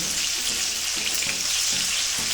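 Peppered steak sizzles in a pot over low heat, a loud, continuous close-up crackle with faint stirring bumps underneath.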